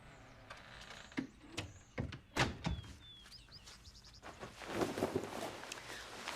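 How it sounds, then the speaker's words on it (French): A door swings shut in a house at night, giving a couple of dull thunks and a brief creak, followed by soft rustling and shuffling nearby. "OK, ben faut fermer la porte d'abord."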